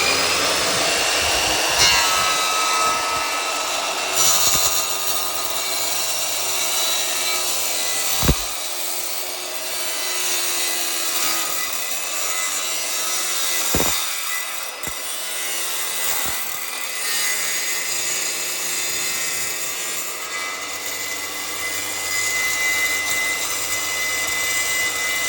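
A wet saw runs continuously, cutting across marble mosaic tile squares lined up on backer board, a loud steady whine with brief dips and surges as the blade bites through, and no talking.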